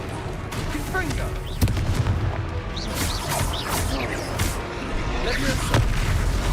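A Confringo fire spell bursts during a chaotic wizard battle in Hogwarts Legacy, with sharp blasts and crashes over a dense, noisy backdrop of combat effects and shouted voices.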